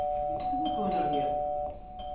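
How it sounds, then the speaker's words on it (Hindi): A doorbell in a household scene of a stage drama rings with a sustained electronic tone, close and fairly loud, while people talk over it. "घंटी पे घंटी दबाए चले जा रहे हैं"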